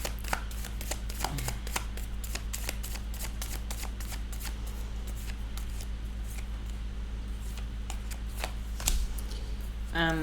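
Tarot cards are shuffled by hand in a steady, papery riffle of quick soft flicks. The sound is close and quiet and carries on for several seconds with no voice.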